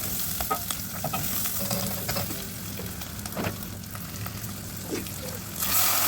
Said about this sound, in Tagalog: Ayan, igisa natin dyan yung ulo ng hipon kasi yan ang magbibigay ng lasa.